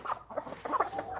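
Hens cluck in a quick run of short, nasal calls close by, fairly quiet with no talking.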